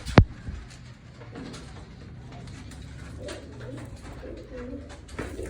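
Soft, low cooing of a female pigeon repeats in a steady murmur, fairly close, after a brief sharp knock at the start.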